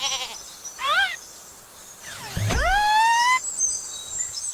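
A goat bleats in a few short wavering calls, the first brief and the later one a longer, louder quavering cry, with no talk over them.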